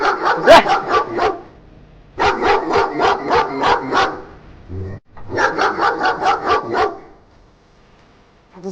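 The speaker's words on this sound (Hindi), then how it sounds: "अरे अरे, कुत्ता दोबारा कहाँ से आ गया?" A dog barks in three quick bursts of repeated loud, close barks with short pauses between, set in a Hindi comedy sketch.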